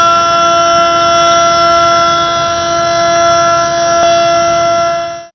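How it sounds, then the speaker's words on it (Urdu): A civil defence siren sounds at a Kashmir Exploitation Day flag-hoisting ceremony, a loud, steady, sustained wail for about five seconds with no talk over it. "یوم استحصال کشمیر پر منعقدہ تقریب میں سائرن بجایا گیا"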